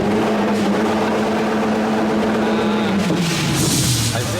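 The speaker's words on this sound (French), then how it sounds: "Je crois que le moteur tourne" Car engine running in a garage workshop, a steady mid-pitched drone that drops slightly in pitch near the end, loud and continuous with broadband background noise.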